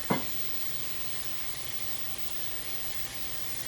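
Chicken cooking in its marinade in a hot pan gives a dense, even sizzle and hiss, close and loud, holding steady after a brief clatter at the start, with no voices.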